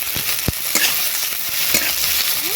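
Shrimp, chopped onion and ginger paste fry in hot oil with dried chillies, five-spice and bay leaf, a steady close sizzle broken by a few sharp scrapes and stirs of a spatula.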